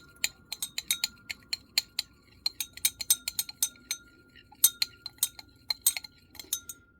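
A utensil stirs a tromethamine solution in a glass container, giving a quick, uneven series of close, bright clinks against the glass.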